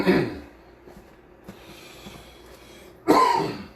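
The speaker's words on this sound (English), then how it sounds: "Cannot stop coughing." Two harsh coughs, one at the start and another near the end, with quiet breathing and faint background noise between them.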